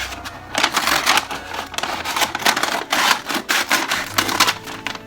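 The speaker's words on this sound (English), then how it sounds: "I'm gonna cut off the excess paper on both sides." Scissors snip through excess wrapping paper on a gift, a series of crisp cutting and crinkling paper sounds in an irregular rhythm, close and fairly loud.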